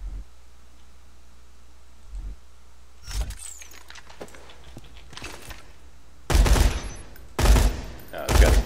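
Attack minigun fired in Borderlands 2, heard as a few loud, broadband bursts of rapid gunfire, with brief quieter shots earlier and three heavy bursts near the end.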